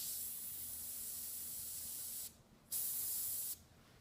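An airbrush sprays paint in a steady, close hiss that cuts off for a moment and then resumes, and a second spray burst stops near the end.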